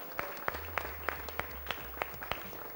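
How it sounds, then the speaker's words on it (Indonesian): A studio audience at a women's motivational session claps in sparse, evenly spaced beats, quiet and somewhat distant. "Berikan tepuk tangan dong yang meriah buat kita semua."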